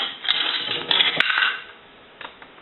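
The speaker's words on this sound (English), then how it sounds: "I'll take a quarter and I'll run it through the telephone. It should gong." A quarter clatters down through the coin mechanism of a three-slot payphone with metallic rattles, followed by a few light clicks as it settles; no clear gong tone stands out.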